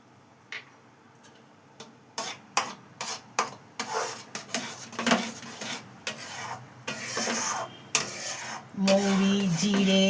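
Fried ground spice paste of fennel, cumin, coriander and dried chilli is stirred into tamarind pickle in a pan off the heat, giving close, irregular scraping strokes, followed by a low steady hum near the end.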